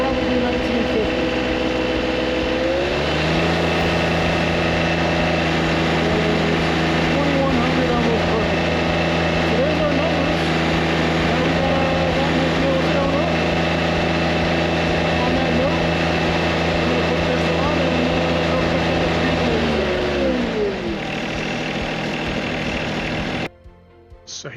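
A hydraulic system's engine settles from higher revs to a steady low idle near 1950 RPM, a loud continuous drone with a firm hum that holds level, then drops away as it slows near the end.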